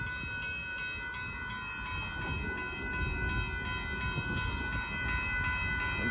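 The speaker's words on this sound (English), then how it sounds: "Let's check out the Kyle train and see what that one's leading." A northbound Union Pacific mixed freight train rolls past a road crossing in Austin, Texas, a loud, steady rumble of wheels and cars close by with faint rhythmic clacking throughout.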